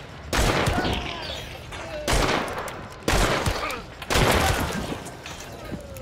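Repeated gunfire from a game of Hunt: Showdown, arriving as four sharp, loud bursts, each one followed by a decaying echo and gaps between the volleys.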